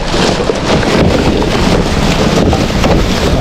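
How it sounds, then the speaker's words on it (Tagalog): Strong wind buffets the microphone in a constant loud roar with gusty surges, no voices present. "Sarap ng hangin."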